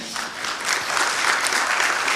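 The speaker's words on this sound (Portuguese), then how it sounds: "palmas para o Wagner, por favor" An indoor audience at a talk on the legal side of social media breaks into applause, swelling from scattered claps into a dense, steady round that carries to the end.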